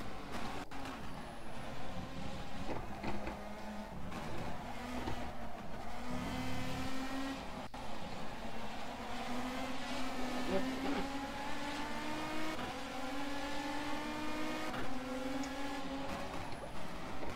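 Renault Megane Trophy race car engine in the rFactor 2 racing sim, a steady loud drone whose pitch climbs gradually as the car accelerates, with no talking.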